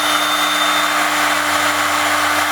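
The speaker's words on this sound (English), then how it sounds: "go ahead and make that drill hole" A power drill runs continuously while boring a hole for a rear fog light install on a car, a loud steady whine with a constant motor hum and no talking.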